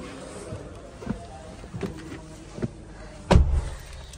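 Getting into a 2022 Maruti Grand Vitara SUV: a few soft interior thumps and shuffles, then one louder, solid door thud near the end, close to the mic.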